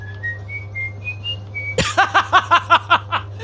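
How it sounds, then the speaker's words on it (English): A person whistles a short, rising run of clear notes over a steady low hum, then breaks into a quick series of rhythmic, breathy bursts like chuckling. "Great whistling, by the way."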